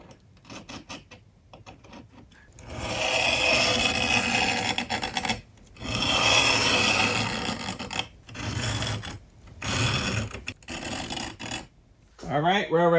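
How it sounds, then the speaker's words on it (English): A sharp scribe tool scraping and etching lines into a metal plate in a workshop, in several loud, gritty rasping strokes separated by brief pauses, close up. "now I'm gonna etch these lines so I can see them on the milling machine"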